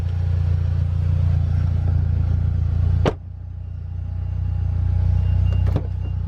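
A single solid thump of a car door shutting near the midpoint, over a steady low engine rumble, with a second softer thud toward the end.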